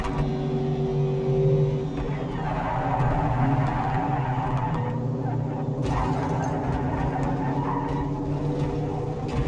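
A race car drives in Project CARS 3, its engine droning and revving steadily with tire skidding squeals layered over the top, loud and continuous throughout.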